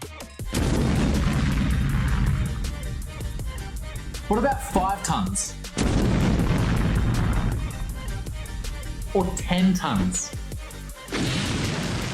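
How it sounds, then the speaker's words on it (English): Two large non-nuclear explosions, one blowing up a concrete mixing truck, boom one after another, each with a long rumbling roll-off, while someone speaks in between them. "Enough of these non-nuclear booms."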